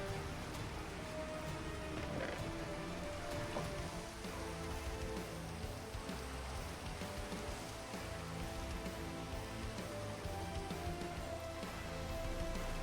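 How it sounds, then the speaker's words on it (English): Rain from the video game Minecraft falls as a continuous even hiss of droplets, steady throughout with a faint tonal game hum underneath and nobody talking. "turn rain off in Minecraft."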